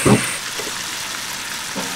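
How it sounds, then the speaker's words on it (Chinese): Pork ribs are stir-fried with screw peppers in a wok, making a steady close sizzle with a brief louder scrape of stirring at the start and another near the end. "最后再放入螺丝椒，稍微翻炒变色就可以出锅了"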